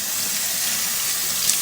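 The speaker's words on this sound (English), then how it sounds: "once you get it free and you start to run some water through there" Tap water runs steadily through the parts of an Omega Vert juicer as they are rinsed in a sink, a constant close hiss and splash with no talking.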